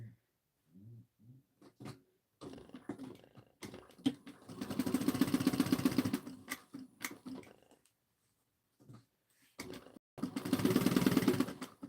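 A sewing machine stitches the seam of a fabric pouch, sounding in bursts of rapid mechanical whirring separated by pauses, with a few clicks and handling noises between runs.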